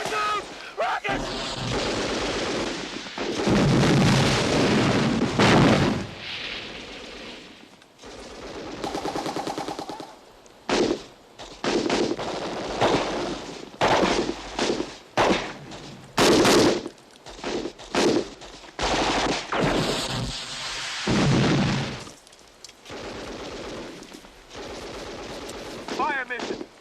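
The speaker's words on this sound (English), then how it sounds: "Watch out! Rockets!" Battle scene from the Vietnam war film Platoon: heavy bursts of gunfire and rocket explosions crash in loud, repeated volleys with short gaps. Shouting voices break in between the blasts.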